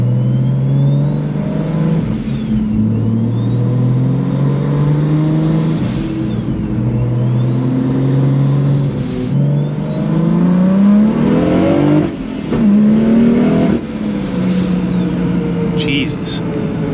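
A car engine, a BMW N54 engine, revs loudly and repeatedly, pitch climbing and dropping through several gear changes, close and dominant throughout.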